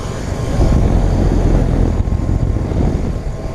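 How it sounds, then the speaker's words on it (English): A 2018 York LX three-ton heat pump with a Copeland reciprocating compressor and Gentech fan motor runs in cool mode, giving a steady, loud, broadband outdoor hum and whoosh with no breaks. "We have a York LX running in cool mode."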